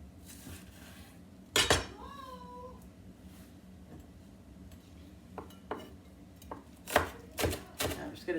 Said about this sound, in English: I'm just gonna dice these up.